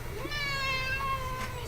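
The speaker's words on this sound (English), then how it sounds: "Hello, cat." A cat gives one drawn-out, wavering meow indoors, fairly close, over a low steady background hum.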